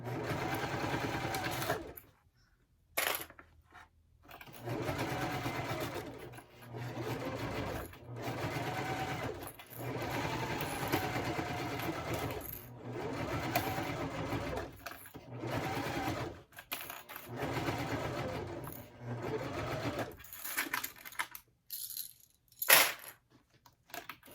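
A sewing machine stitches a bowler bag in long, steady runs of fast, close mechanical whirring, broken by brief silent pauses and a few light clicks.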